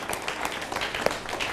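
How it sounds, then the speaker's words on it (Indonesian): Applause from an audience at a gathering, a steady patter of many hands clapping close by, continuous and fairly loud. "Tepuk tangan untuk Pak Karno."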